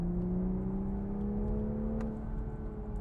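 Toyota Supra with a BMW B58 3-liter inline-six engine holds a steady, smooth hum that eases slightly in pitch, with no voices.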